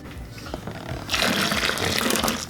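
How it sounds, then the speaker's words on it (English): Water pours into soil in a sudden splashing gush after a second of quieter rustling, close and fairly loud. "A little bit more water."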